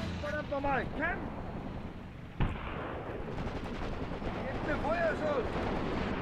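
Mortar fire booms in the WWII tactical game Graviteam Tactics: Mius Front, a single sharp blast standing out over a low rumbling battlefield backdrop while someone talks.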